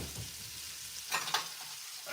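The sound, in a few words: stirring frying bacon in a pan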